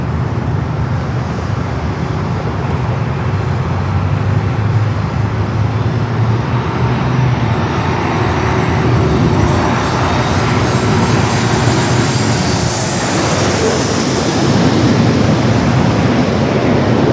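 A fixed-wing airliner inbound from Houston at San Diego airport, a steady broad engine roar that swells slightly as it nears, with a rising whine late on, continuous and without talk.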